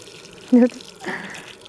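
Water splashes out in a short burst while watering a small mango sapling, then a softer trickle follows, with faint background noise throughout.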